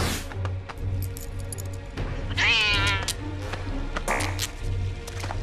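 A cartoon cat lets out a drawn-out, wavering meow that rises and falls, followed by a shorter second cry, amid music and sound effects from the animated scene.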